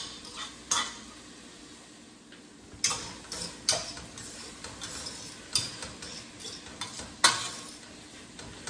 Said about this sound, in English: So now I'm mixing the sausage with the ground meat.